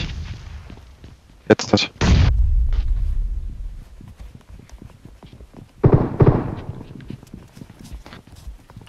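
A grenade blast in the mobile battle-royale game PUBG Mobile, heard as loud sharp bursts and a heavy booming impact, followed by clatter and footstep-like game sounds, with players talking briefly.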